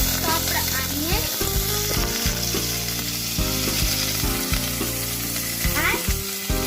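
Chopped onions frying in oil with cumin and other whole seeds for a dhaba-style egg curry give a loud, steady sizzle that runs without pause, with a low tonal hum underneath.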